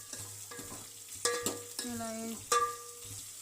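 Chopped tomatoes sizzle and fry in a hot pan while being stirred, the spoon scraping in a few distinct bursts over a steady crackle, with a brief word spoken.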